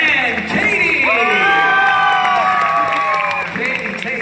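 A crowd cheers and applauds for Hunter, Lance, Mike, and Katie, with whoops and shouts rising in the middle and holding loud and steady throughout.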